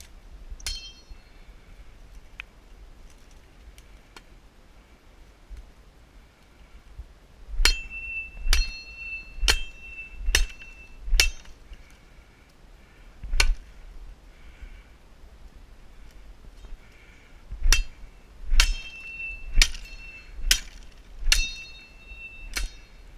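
The edge of an ESEE Lite machete smashes against rocks in two bursts of sharp, ringing metallic strikes, each burst a quick irregular series of hits separated by a quieter pause.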